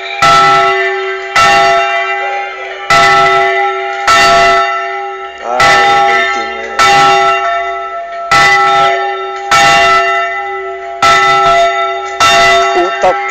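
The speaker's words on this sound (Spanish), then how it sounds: "Puta campana de mierda." A church bell rings loudly and close, struck in slow regular strokes about every one and a half seconds, each tone ringing on briefly before the next, alone with no talk.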